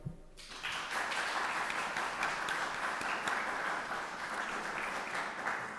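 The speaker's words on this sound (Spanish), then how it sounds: "Un aplauso para él" An audience at a book presentation in a lyceum in Ourense breaks into applause for a speaker just introduced, starting abruptly after a brief voice and holding as a steady, even clatter of many hands throughout.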